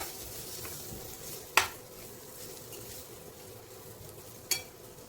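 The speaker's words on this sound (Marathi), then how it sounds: "त्यानंतर आता आपण हे तेलामध्ये फ्राय केलेलं गवार टाकूया. हेही छान मिक्स करून घेऊ." Fried cluster beans (gavar) stirred into a sizzling masala of oil and turmeric in a pan, giving a steady soft sizzle with two sharp spoon-on-pan scrapes standing out.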